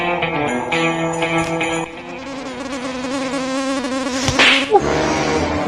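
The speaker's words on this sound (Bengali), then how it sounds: "মশার যন্ত্রণায় ভাল লাগে না।" A high mosquito whine drones steadily and close indoors beside a playing TV, with a sharp slap-like hit near the end.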